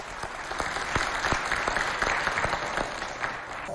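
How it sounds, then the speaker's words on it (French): Studio audience at a French-language African TV show claps steadily, a dense patter of many hands with sharper individual claps standing out, moderately loud and sustained with no voices over it. "Et encore une fois, applaudissez pour elles."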